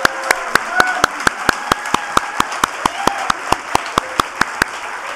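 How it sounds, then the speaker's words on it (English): Rhythmic, evenly spaced claps from an audience honoring school performers at a World Wildlife Day event, sharp regular beats over a background of voices and cheering. "let's give them another round of applause"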